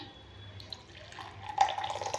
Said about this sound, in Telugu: ఇప్పుడు ఒక గ్లాస్ తీసుకొని వడగట్టుకోవాలి ఈ వాటర్ని.